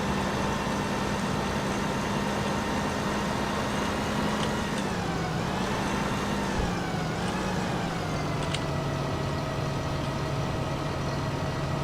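A Fendt Vario 936 tractor drives in Farming Simulator 15 with a loud, continuous engine drone, its pitch dipping and rising slightly midway as it changes speed, steady throughout with no talking.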